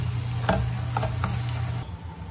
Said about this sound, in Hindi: अब हम ग्रेवी को चेक करेंगे और थोड़ा सा टमाटर को भूनेंगे